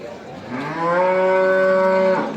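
A single long cow moo at a cattle market in Dhanaula, rising then holding a steady tonal low, loud and close, with faint background noise and no talking.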